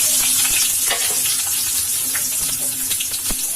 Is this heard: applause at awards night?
no